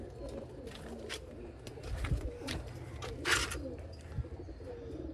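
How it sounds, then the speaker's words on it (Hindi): Sialkoti Ali wale pigeons coo softly in a loft, with a few low murmuring calls over a steady background of fluttering and ambient noise. "सियालकोटी अली वाले ब्रांडेड कबूतर"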